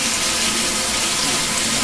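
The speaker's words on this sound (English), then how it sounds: "So now I can really clean between the leaves and run the water." Tap water runs steadily at close range over leeks being rinsed in a sink, a continuous broadband splashing rush with no voices.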